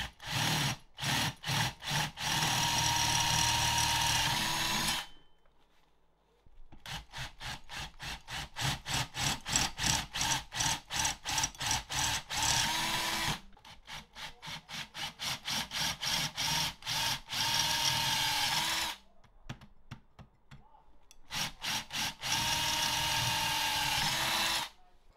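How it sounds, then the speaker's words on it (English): Power drill with a step bit boring a hole in a PC faceplate, heard as long runs of fast, rhythmic, rasping grinding close up, broken by short pauses. "Let's drill out the other hole. Gonna step up the drill bit size as high as I can."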